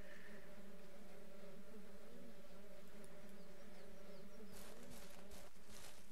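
A swarm of bees in the farming game Ranch Simulator drones with a continuous, steady buzz, fairly faint and unbroken, with a few light clicks near the end.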